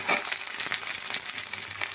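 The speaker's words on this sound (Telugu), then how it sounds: "సో ఉల్లిపాయలు వేగుతున్నప్పుడు మనం కొంచెం కరివేపాకు వేసుకోవాలండి." Onions fry with curry leaves in hot oil for a red rajma curry, a steady dense sizzle with fine crackling and faint stirring throughout, close and fairly loud with no voices.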